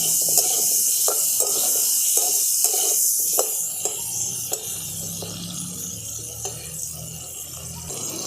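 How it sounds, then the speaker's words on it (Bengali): Potatoes fry with salt and turmeric in hot oil, giving a steady bright sizzle punctuated by regular stirring clicks and scrapes from a spatula against the pan. "দেখুন নুন হলুদ দিয়ে আলুটাকে আমি খুব ভালো করে ভেজে নিচ্ছি"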